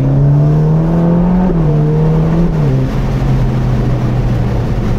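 A Ferrari Roma Spider's 620 hp engine holds a loud, steady high-rpm drone, the pitch easing down slightly and dipping at a gear change before settling, with no voices over it.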